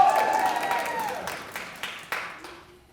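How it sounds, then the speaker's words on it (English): An audience claps at a nursing pinning ceremony, a moderately loud burst of applause that thins into a few scattered claps and fades out. "You can clap for them, that's all right."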